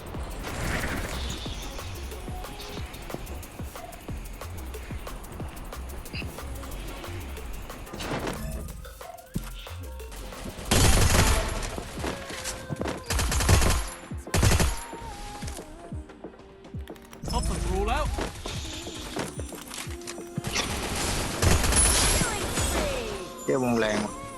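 Bursts of Free Fire video game gunfire and explosions crackle in loud clusters while a person talks excitedly throughout.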